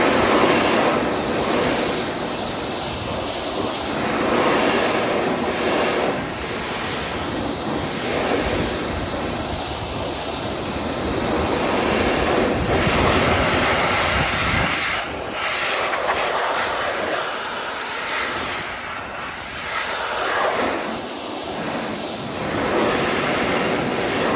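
A pressure washer sprays a car outdoors on a chilly day, producing a loud, steady, broadband hiss and roar that runs unbroken for the whole stretch with slight surges, up close and alone.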